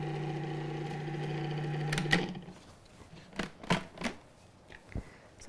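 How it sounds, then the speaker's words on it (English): An electric mixer creams butter and sugar in a bowl, its steady motor whir running for about two seconds before cutting off, followed by a few scattered knocks and scraping clatters. "I want to just mix this until the butter and sugar are like well combined and kind of creamy."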